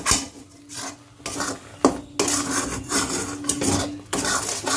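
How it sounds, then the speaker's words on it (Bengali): A sweet mixture with powdered sugar is stirred in a pan, a spoon rasping and scraping in uneven bursts with brief pauses and a clink near the middle, close and with no talking. "এবার একটু নাড়তে হবে ভালো করে।"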